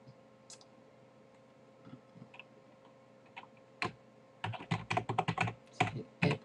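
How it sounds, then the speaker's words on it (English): Typing on a computer keyboard: a few scattered key taps, then a quick burst of rapid clicking keystrokes near the end, close and fairly quiet. "type the category in here"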